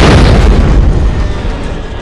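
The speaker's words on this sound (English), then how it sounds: "And I may have just bombed a hospital." A bomb explodes at a hospital in the video game Postal 2, producing a loud, deep, rumbling blast that fills the whole moment and fades slightly toward the end.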